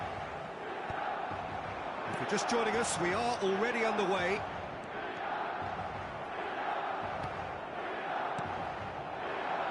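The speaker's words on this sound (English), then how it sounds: "Red and black wherever you turn, the San Siro is buzzing." A stadium crowd roars at San Siro in a football video game, with a brief swelling chant rising above the steady din while a commentator talks over it.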